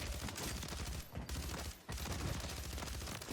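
Gunfire in the video game Warzone, a loud, dense fusillade of rapid shots continuing almost without pause, broken by two brief drops in volume, with no voices.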